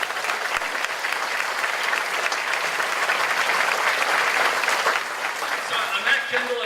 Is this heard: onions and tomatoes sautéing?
no